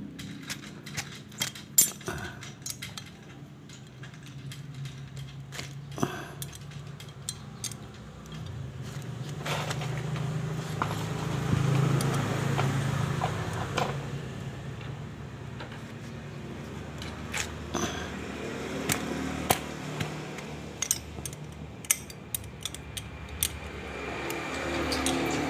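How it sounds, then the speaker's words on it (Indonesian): Metal tools clink and ratchet against the engine of a Yamaha Vega ZR motorcycle while the valve adjustment bolt is loosened, with scattered sharp taps and scrapes over a steady low background hum, close by. "Kemudian kita kendorkan baut setelan klepnya."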